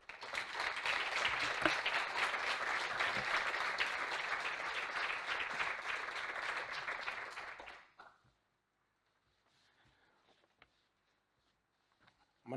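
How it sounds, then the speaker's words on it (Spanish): A conference audience at a children's and youth diabetes update day claps to welcome Raúl Alcalá, an educator from Hospital Infantil Niño Jesús. Dense, steady applause runs about eight seconds, then stops abruptly into near silence. "Raúl Alcalá, un aplauso."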